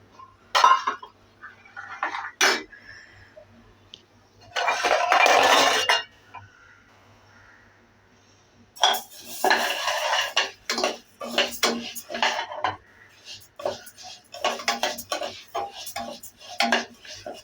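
Moong dal being stirred and roasted in a pan for paruppu payasam: a spoon scrapes and clinks against the metal in irregular bursts, with short quiet gaps between the strokes.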